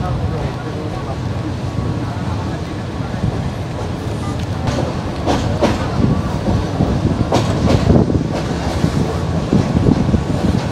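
The Parjatak Express passenger train pulls out of Airport station in Dhaka, a loud, close, steady rumble of rolling wheels and carriage rattle building gradually, with faint voices nearby.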